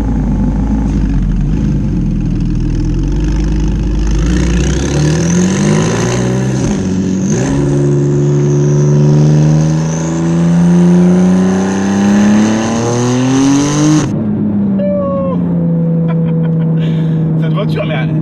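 A Porsche 911 GTS phase 2 engine accelerates hard with rising revs and gear shifts, loud and close from inside the car, then eases off; people talk over it.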